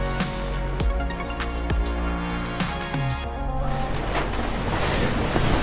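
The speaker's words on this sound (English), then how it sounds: "Was really, really windy, nice" Strong wind buffets the microphone at a windsurfing contest on the open ocean, with waves rushing and crashing in a loud, continuous roar.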